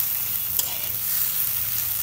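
Coriander, cumin and dried chilies frying together in a pan, a steady close crackling sizzle running the whole time with a brief stir-like clatter early on.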